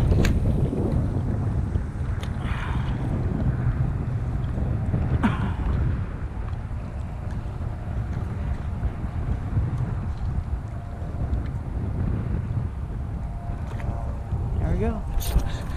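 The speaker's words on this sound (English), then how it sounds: "it's coming out of the north, so at least we're gonna paddle against the wind" Steady north wind buffets the microphone on open water during a kayak fishing trip near Rockport, Texas, a loud continuous low rumble with occasional gusts throughout.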